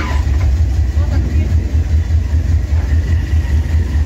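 A Danone vendor's car sits idling nearby, its engine giving a loud, close, steady low rumble with a regular throbbing pulse throughout.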